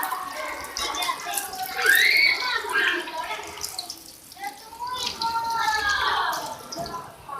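Clean tap water runs over hands being washed at a sink, splashing and trickling steadily beneath a person talking throughout.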